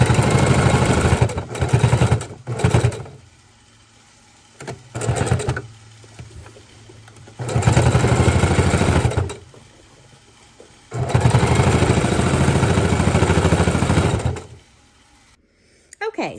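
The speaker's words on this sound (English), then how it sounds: "We're going to fold it in and sew it right along that seam" A home sewing machine stitches along the seam of a fabric seat belt cover, its motor whirring in two sustained bursts of a few seconds each, close by, with a person talking in between.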